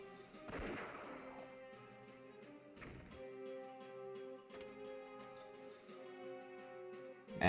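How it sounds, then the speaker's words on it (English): Artillery fire in a 3DS strategy game, with a few dull booming blasts at irregular intervals over steady sustained game music tones, ending in a sharp loud burst. "More artillery."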